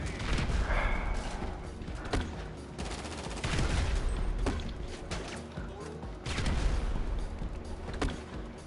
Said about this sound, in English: I'm using grenade launcher, okay?